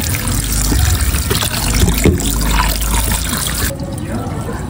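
Squid rinsed under running water, a steady splashing trickle and pour that stays close and fairly loud throughout, with a brief handling clatter near the end.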